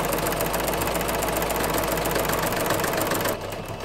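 A sewing machine fitted with a ruffle foot runs continuously, gathering fabric with a dense, rapid mechanical whir, then eases off slightly near the end.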